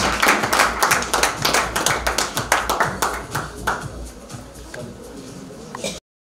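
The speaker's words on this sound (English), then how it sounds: "Give them a round of applause." Audience applause at a charity dinner, a dense burst of many hands clapping that starts strong and gradually thins and fades over several seconds, with no voices over it.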